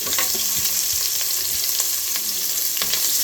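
Onions sizzle and crackle steadily in hot oil while being sautéed for bisi bele bath, with occasional stirring scrapes, loud and close throughout.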